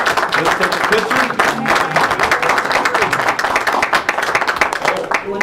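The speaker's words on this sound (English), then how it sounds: "let's give one more final applause." A board of education meeting audience claps steadily for several seconds, a bright, dense patter of many hands filling the room, with faint voices mixed underneath.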